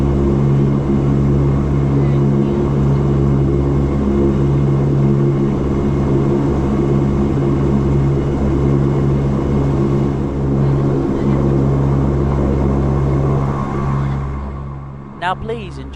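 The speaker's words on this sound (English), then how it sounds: "Now please enjoy this unedited takeoff." Regional Express passenger aircraft taking off from Sydney's runway 16 right, heard from inside the cabin as a loud, steady engine roar with a low hum that holds throughout and fades slightly near the end.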